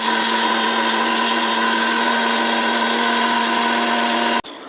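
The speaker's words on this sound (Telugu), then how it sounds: "మిక్సీ కొట్టినప్పుడు తగినంత సాల్ట్ వేసి మిక్సీ కొట్టడమే." A mixer grinder runs steadily on roasted coriander seeds and salt, a loud continuous whirring drone with a fixed motor hum that cuts off abruptly near the end.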